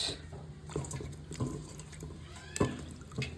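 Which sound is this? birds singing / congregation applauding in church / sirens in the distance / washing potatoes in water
washing potatoes in water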